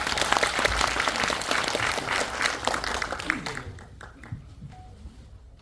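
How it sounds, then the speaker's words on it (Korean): A seminar audience bursts into applause, dense clapping that fills the room for about three seconds before thinning out and fading to a few scattered claps, fairly close and loud. "박수 부탁드리겠습니다."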